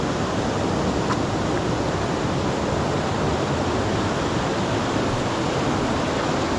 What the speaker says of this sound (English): Right, so that's your first bit waterfall.